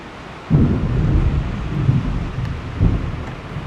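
A thunderstorm: a deep, rolling rumble of thunder breaks in loud and close, then lingers with further swells and a second crack near the end over steady rain and wind noise.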